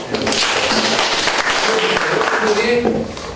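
A class audience claps in applause, a dense burst of many hands that holds steady for about three seconds, loud and close, with voices mixed in.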